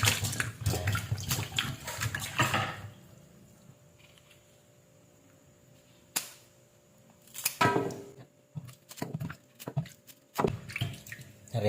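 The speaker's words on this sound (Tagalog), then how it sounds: "Clean and wash the okra with water." Okra gets washed under a running tap, with bursts of splashing water and wet rubbing that stop and start in uneven spurts, separated by quieter gaps with faint drips.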